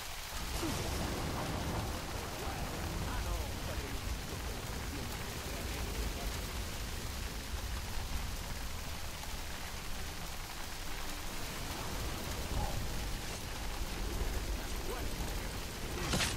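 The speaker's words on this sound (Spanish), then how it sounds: "Encima se pone a llover." Steady rain falls across a video game landscape in Shadow of Mordor, a dense, even hiss that holds for the whole stretch with faint low rumbles beneath, and no talking.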